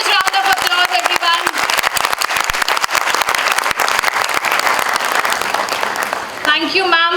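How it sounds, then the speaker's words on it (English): Loud, dense applause from a crowd at a NAAC accreditation celebration fills the room, with a voice briefly heard at the start and again near the end. "A huge round of applause, everyone."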